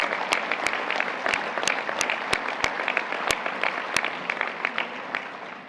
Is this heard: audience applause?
yes